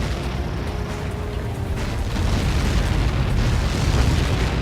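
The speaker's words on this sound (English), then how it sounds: "How many got caught in that explosion?" A huge blast from a projectile impact in the video game Ace Combat 7 rolls on as a dense, sustained boom, a broad rumbling roar that swells rather than fading over several seconds, with no talking.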